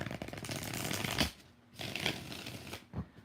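Tarot cards are shuffled by hand in a few quick riffling bursts separated by short pauses, close and fairly soft.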